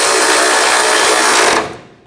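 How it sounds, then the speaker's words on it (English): Nuts being run down on the front bumper brackets of a 2004-2008 Ford F-150, a dense continuous broadband whirr of a power tool that holds steady close up, then cuts off abruptly near the end. "Tighten the nuts down."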